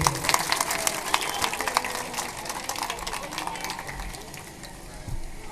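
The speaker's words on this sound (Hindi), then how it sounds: "आप लोगों से करबद्ध निवेदन करता हूँ कि ताली बजा दें" An audience applauds at a devotional katha gathering in Noida, a dense continuous patter of many hands at fairly close range, fading slightly toward the end.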